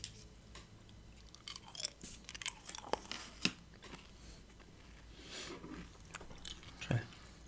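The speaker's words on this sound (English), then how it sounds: "I might have a piece of chewing gum now, actually." Soft close-up gum chewing in a quiet room, with sticky wet clicks, smacks and occasional crunchy bites coming in irregular bursts, plus a few breathy sniffs and light rustles.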